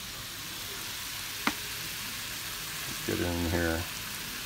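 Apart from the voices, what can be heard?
vegetables sautéing in a pan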